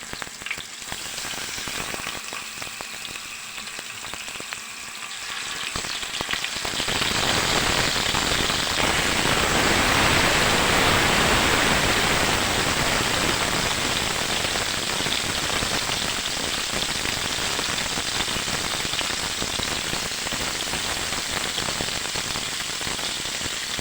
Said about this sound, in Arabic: وهبتدي احمر في الفراخ آه حته حته كده